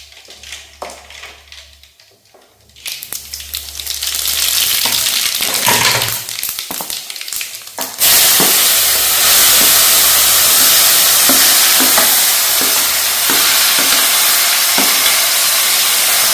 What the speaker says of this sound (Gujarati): હાલો તો હવે આપણે વઘાર દઈએ.